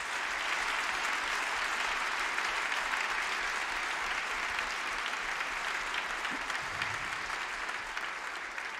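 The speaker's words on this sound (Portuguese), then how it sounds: "a primeira salva de palmas vai para o Tilo Krasman" A theatre audience at a one-man show gives sustained, dense applause for a conductor, a loud unbroken roar of many clapping hands lasting several seconds.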